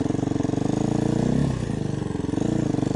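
A dirt bike engine on a trail sounds up close with a loud, steady pulsing throb, briefly rising in a rev midway before settling back to a choppy idle.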